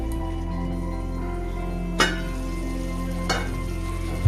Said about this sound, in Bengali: ভালো করে নেড়ে চেড়ে আমি আবার ঢাকা দিয়ে দেব। এই সময় ফ্লেমটা কিন্তু লো থাকবে।